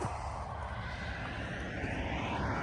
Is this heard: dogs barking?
no